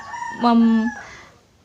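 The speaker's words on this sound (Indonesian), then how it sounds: "Maaf kalau ada suara ayam." A rooster crows once, close and fairly loud, a harmonic call rising then trailing off, heard behind an indoor tarot reading with faint background noise.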